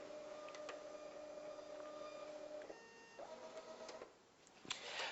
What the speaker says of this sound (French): Et puis vous cliquez « Confirmer » et directement, le bulletin va s'imprimer.